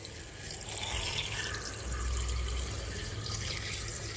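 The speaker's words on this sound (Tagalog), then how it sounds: "Lagyan natin na konting water," Water pours steadily into a cooking pot for beef sinigang, a continuous watery rush that holds at an even level throughout with no talking.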